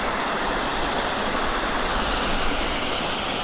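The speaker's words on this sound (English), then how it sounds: "More leaky gates." Water pours steadily through leaking wooden gates at a lock on the Caen Hill flight near Devizes, making a constant close rushing hiss with no break.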